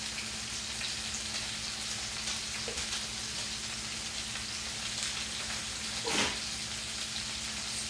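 Onions frying in a pan with liver, a steady soft sizzle and crackle continuing evenly throughout with a faint steady hum underneath.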